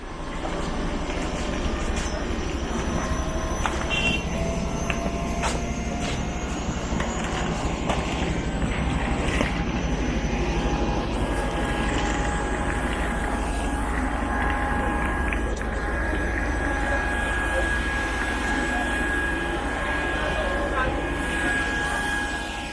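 A low, steady engine roar with a high whine on top, the continuous drone of a nearby Embraer ERJ-135 regional jet, with faint voices underneath.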